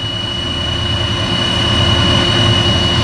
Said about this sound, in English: as you hear the towboat go in the background